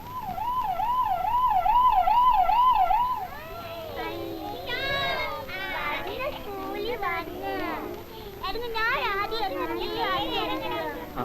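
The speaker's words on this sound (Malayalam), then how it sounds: "അതെന്ത് വണ്ടിയാ? അത് ആംബുലൻസ്." An ambulance siren wails in a steady rapid oscillating tone for about three seconds, then gives way to children's excited voices chattering and shouting over a faint background hum.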